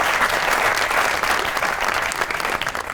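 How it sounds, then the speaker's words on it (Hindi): Studio audience applause on a Pakistani comedy talk show, a dense, loud, sustained wash of clapping from a sizable crowd filling the whole stretch without a break. "बहुत ही तालियां फिरदौस भाई के लिए।"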